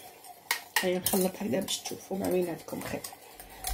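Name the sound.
stirring hollandaise sauce in a pan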